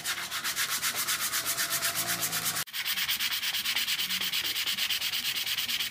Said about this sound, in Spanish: ahora taquito con lija